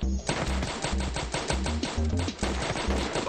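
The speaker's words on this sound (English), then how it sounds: "Or I got a slick SMG." SMG fire in a video game, rapid repeated bursts of shots in a steady rhythm, loud and close throughout.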